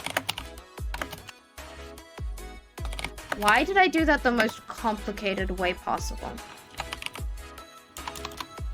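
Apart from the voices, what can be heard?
typing on a computer keyboard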